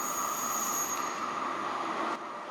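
An RER commuter train in Paris rumbles along loudly with a steady high whine. A brief shift in the noise comes near the end, and no one speaks.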